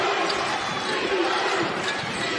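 Dense, steady crowd noise fills a women's basketball national championship game between Grand Valley State and IUP, played before a near-home crowd, with a continuous roar throughout and a commentator speaking over it.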